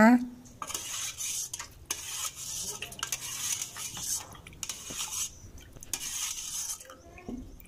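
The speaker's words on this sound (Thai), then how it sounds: "เดี๋ยวแค่เลจะนำกระชอนนะคะ มาตักเอาเศษบ้วยออกให้หมดเลยนะคะ" A strainer scooping pickled plum bits out of liquid, heard as close clinks of metal against a pot and soft scraping and stirring, with a louder knock at the start.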